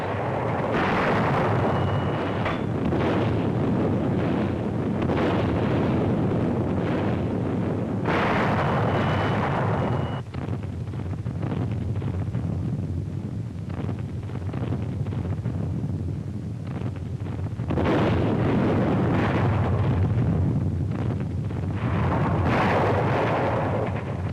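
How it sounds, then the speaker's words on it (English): Naval bombardment off the Normandy coast on D-Day in 1944, a dense continuous roar of distant heavy explosions and artillery fire with rumbling swells and blasts, loud throughout with no voices. "Daybreak. The naval bombardment continues."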